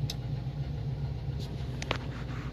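A 2004 Ford E350 van engine runs at a close, steady idle, its low rumble continuous, with a few faint clicks and rattles from inside the vehicle.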